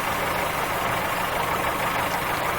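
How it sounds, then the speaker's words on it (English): Steady, low rumbling idle of a train locomotive engine in Train Simulator 2016 on the Riviera Line, continuous and fairly loud with a constant drone and no voices. "So I'm going to let it idle again now, because again we'll pick up speed anyway"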